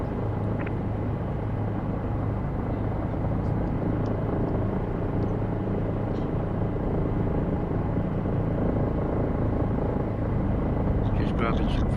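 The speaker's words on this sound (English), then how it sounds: "helicopter November 810 Delta Bravo, vertical landing at the eastern edge of runway 23" A Bell 407 helicopter making a vertical landing at the edge of a runway, its steady loud rotor and turbine roar filling the whole stretch with a constant low drone, under a person talking.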